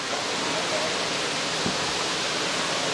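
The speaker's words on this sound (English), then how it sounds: "look at that fabulous Love Waterfall on the other bank" A waterfall on a riverbank near Cat Cat village in Sapa, Vietnam, rushes with a constant broadband roar, steady and unbroken throughout, heard alone without talk.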